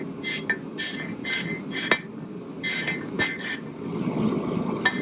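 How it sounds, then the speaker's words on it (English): An 8-pound hammer strikes a truck spring on an anvil in a run of sharp, ringing metallic blows, several heavy hits spaced roughly half a second apart, close and loud over a low background rumble. "look at how the shock wave from that hammer strike moves the front of the camera, and look at how the anvil moves also with those hits."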